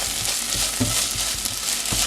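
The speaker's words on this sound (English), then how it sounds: "Sauté well." Ginger garlic paste and green chilies sizzle steadily in a hot pan, a close, continuous frying hiss with soft stirring scrapes, no voices.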